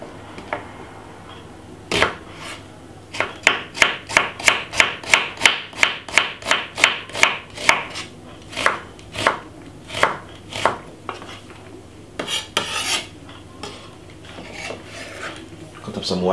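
A knife chops white onion on a board in a quick, even run of sharp, close knocks, pausing between bursts, then a looser scatter of scraping taps near the end over faint background hum.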